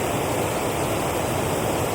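Water rushes over a dam spillway at a state park lake, a loud, steady, broadband roar that holds constant with no pauses.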